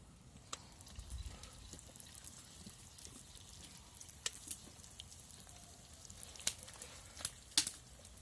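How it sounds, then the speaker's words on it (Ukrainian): Eggplant frying in oil: soft, steady sizzle with sparse crackles and a few sharper pops, quiet and close, with no voices. "Баклажанчики смажаться."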